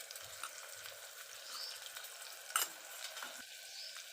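Whole slit onions cook quietly in oil with a faint, steady sizzle and occasional soft pops, heard close but low and alone.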